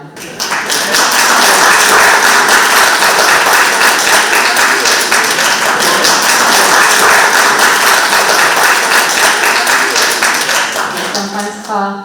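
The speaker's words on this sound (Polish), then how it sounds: "Wielkie brawa. Wielkie brawa." Loud, sustained audience applause fills a community award ceremony at a social initiatives forum in Chełm, Poland, steady for about eleven seconds before tapering off as a voice begins at the end.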